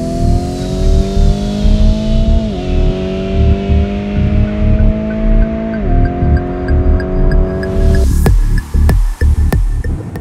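Modified Lamborghini Urus SUV with a tune fitted, accelerating hard from inside the cabin: loud engine rising in pitch through two upshifts, then a sharp cut and a few crackling pops as the throttle lifts.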